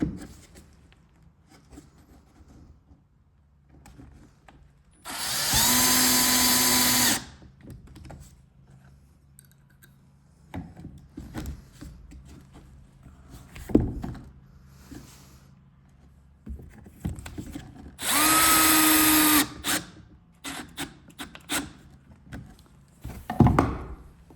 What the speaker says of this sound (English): I gotta try to hold this all together nice and square and screw it together nice and tight.